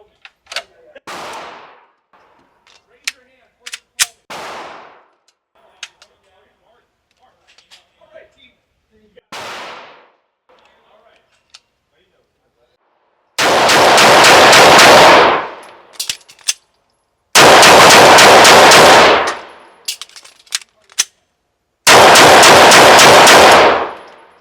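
A Walther PDP pistol fires during point-shooting practice: scattered sharp single shots, then three long strings of rapid shots, loud and close.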